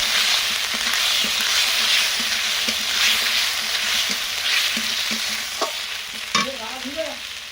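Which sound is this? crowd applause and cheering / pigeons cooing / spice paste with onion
spice paste with onion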